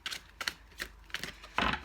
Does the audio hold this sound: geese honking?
no